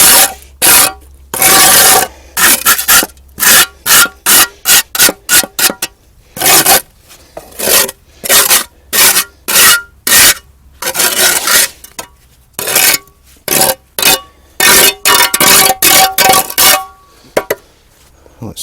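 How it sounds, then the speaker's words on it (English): Soil is scraped off a concrete slab in a garden in a rapid series of rough, rasping strokes, loud and close, in irregular bursts with brief pauses between them. "So I just need to scrape this soil off this slab."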